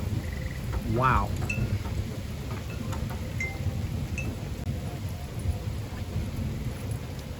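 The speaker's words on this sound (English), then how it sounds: "Well, I'd say we got a little bit of rain." Rain falls steadily outside in a yard as a steady hiss of drops hitting the surface with a low rumble beneath, alone and continuous for several seconds, plus a brief squeaky chirp near the start.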